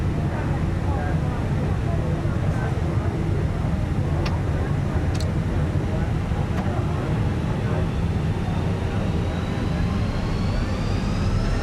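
Fenix A320 jet engines at takeoff thrust in a flight simulator: a steady, loud broadband roar with a faint rising whine, continuous throughout.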